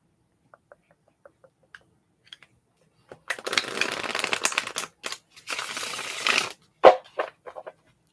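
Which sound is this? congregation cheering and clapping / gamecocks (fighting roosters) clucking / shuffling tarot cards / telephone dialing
shuffling tarot cards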